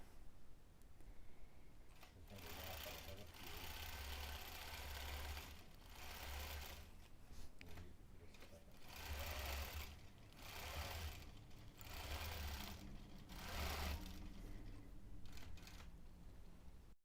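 A quilting machine stitches basting across a quilt in bursts of steady, rapid needle chatter, pausing briefly between runs, close and fairly loud with no voices.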